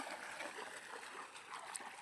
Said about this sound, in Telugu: ఈ కాలువకి అయితే నీళ్ళు వస్తున్నాయి